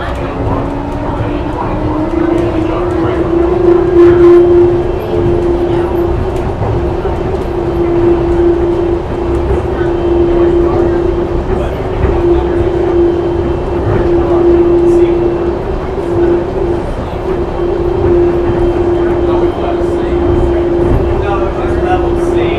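An airport SkyTram train departs, rolling along with a steady mechanical drone and a sustained motor whine, rattling and clattering throughout at close range.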